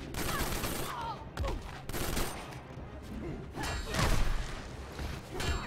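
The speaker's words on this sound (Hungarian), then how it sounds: "Deathstroke csak lövöldöz." Bursts of gunfire from Deathstroke in the Injustice fighting game, rapid volleys of shots in several clusters mixed with impacts and game effects, fairly loud throughout.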